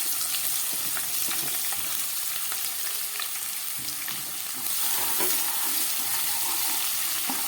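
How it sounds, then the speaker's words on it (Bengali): Chopped onions and whole garlic cloves fry in oil with cardamom and cloves for mutton curry, a continuous crackling sizzle that grows louder and fuller midway, with faint stirring scrapes and no talking. "এবার পেঁয়াজটাকে আমি যতক্ষণ জল না শুকোচ্ছে ততক্ষণ ভেজে নেব।"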